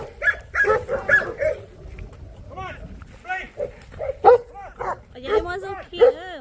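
A pet dog at a countryside home in the mountains barks and yips in short bursts, close by, with a few whimpers, while people talk over and between the barks.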